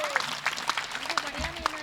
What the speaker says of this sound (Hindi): जोरदार ताली बजा दो एक बार।